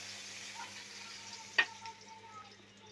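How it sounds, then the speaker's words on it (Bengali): A rohu fish head fries in a pan as it is turned, giving a faint, steady sizzle with one sharp clink of a utensil partway through. "আমি মুড়াটা উল্টে পাল্টে ভেজে নিচ্ছি।"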